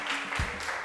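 Audience applause breaking out on a Colombian TV reality show after contestants' statements, a brief dense burst of clapping with a low thump partway through.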